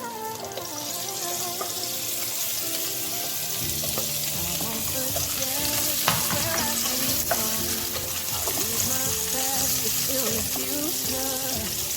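Onions sizzle steadily in a pan for a dish of dry fish with coconut cream, a constant frying hiss with occasional stirring, while background music plays throughout.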